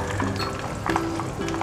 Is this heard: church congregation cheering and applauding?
no